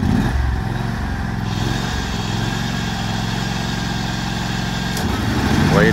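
A John Deere X300R lawn tractor engine runs at a steady idle, a loud, even low drone close by that rises slightly near the end.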